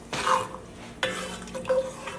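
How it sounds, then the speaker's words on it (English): A spoon scrapes and stirs through steak stroganoff gravy in a pan as it heats toward a boil, with repeated clinks and scrapes against the pan over a faint sizzle. "I'm going to stir this and bring this to a boil."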